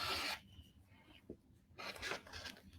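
A rotary cutter trims a fabric quilt block for a Halloween border, giving two short rasping cuts through the cloth, one at the start and another longer one near the end, close and with no talk.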